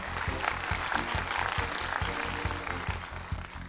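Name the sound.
audience applause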